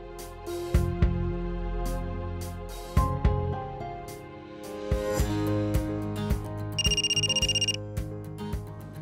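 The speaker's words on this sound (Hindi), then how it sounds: "देखो तो किसका फोन है।" A melodic phone ringtone plays loudly over background music, with a brief high electronic tone partway through.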